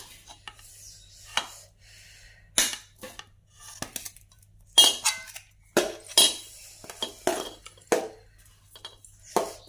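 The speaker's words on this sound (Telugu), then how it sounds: "నేనైతే తాలింపు పెట్టిన కళాయిలోనే అన్నం వేసుకొని కలుపుతున్నా." Hot rice stirred into a kadai with tempering for mango pulihora, producing intermittent metallic scrapes and clinks of a spoon against the pan, close and sporadic with quiet gaps, no talk.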